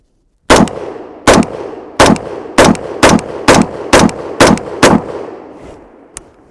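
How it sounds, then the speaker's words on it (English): Nine sharp, loud rifle shots from an unsuppressed AR fired at a target, spaced roughly half a second apart in a steady rhythm, each with a brief ringing decay, followed by a faint small click. "I have a unsuppressed AR. And go ahead and put like 10 rounds in this target right here."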